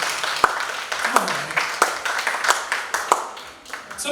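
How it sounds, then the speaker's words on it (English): A small congregation gives a round of applause, scattered claps with a few sharper distinct hand claps standing out at roughly regular intervals, fairly close with faint voices underneath. "I'll give Jason a round of applause."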